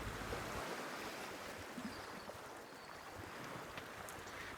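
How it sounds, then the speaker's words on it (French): Gentle sea waves wash steadily onto a shore under wind noise, a soft continuous surf ambience with no voices. "Les vagues vont et viennent au rythme de votre respiration."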